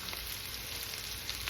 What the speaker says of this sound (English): I know y'all heard of frying cabbage